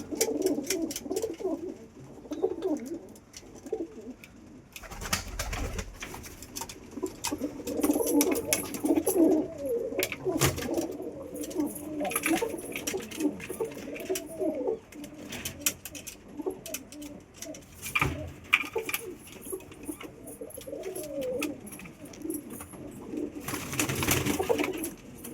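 Pigeons cooing at a pigeon house while being fed, several soft throaty coos rising and falling over a steady background, with occasional wing flutters and clatter nearby.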